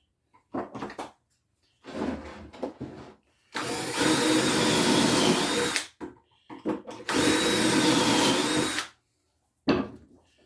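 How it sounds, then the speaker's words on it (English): Power drill boring pocket holes in wood clamped in a pocket hole jig, two loud sustained whirring bursts of about two seconds each, separated by shorter clicks and handling knocks of the jig and workpiece. "So I'm going to put it on my pocket hole jig, tighten it down."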